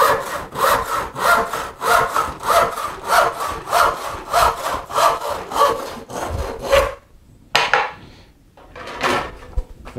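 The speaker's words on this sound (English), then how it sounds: "Grab a saw, get your saw bench, make yourself comfortable, and start making firewood." A hand saw cuts through a scrap wood board in a fast, regular rhythm of close, rasping strokes for about seven seconds, then stops briefly before a few final strokes. No one speaks.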